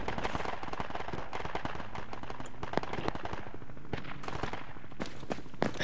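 Bursts of rapid rifle and machine-gun fire crackle in the Project Reality video game during an Afghan insurgency battle, with sharp repeated shots, some near and some more distant, loud and continuous.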